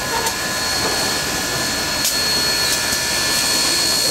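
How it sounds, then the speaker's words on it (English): Steam locomotive number 630, built in 1904 by the American Locomotive Company, passes close by with a loud, steady roar and rumble, with brief sharp hits over the top. "Steam engine number 630, built in"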